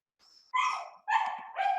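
Dogs give a faint whine, then three loud sharp barks in quick succession, heard close indoors with no talk over them.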